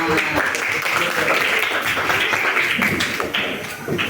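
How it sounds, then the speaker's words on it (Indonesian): Audience clapping during a religious lesson on honoring parents, a quick, uneven patter of hands clapping at close range with speech audible alongside, lasting about four seconds. "Yang keras, betul mendoakan, tepuk tangan."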